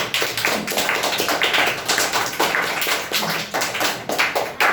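Audience at a children's public speaking competition claps for the next young speaker, a dense, steady patter of many hands close by that holds for several seconds without talk.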